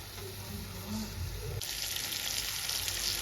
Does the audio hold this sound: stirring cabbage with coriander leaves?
yes